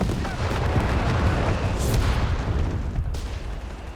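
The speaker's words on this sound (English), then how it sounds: "is getting pummeled by countless German guns here" German artillery and gunfire in Company of Heroes 3 pound a building in a dense, loud barrage of overlapping booms and cracks, easing slightly toward the end.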